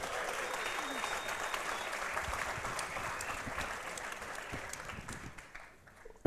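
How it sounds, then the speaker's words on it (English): Audience at a live boxing event at the Mill applauds sponsors with steady, sustained clapping that fills the hall, tapering off near the end. "Give them all a big round of applause"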